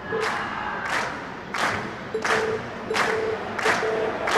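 A video game concert crowd cheers in repeated surges, about six rhythmic bursts of shouting and roaring that swell and fall at a steady pace, loud and close.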